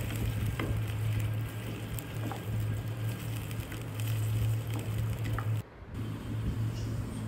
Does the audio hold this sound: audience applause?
no